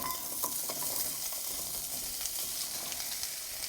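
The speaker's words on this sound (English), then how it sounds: "I'm going to add a little bit of olive oil, like so. I'm going to add our vegetables." Vegetables for chicken noodle soup go into hot olive oil in a pan over medium heat, giving a soft, steady sizzle with a few light stirring scrapes and clicks, faint and close, without talk.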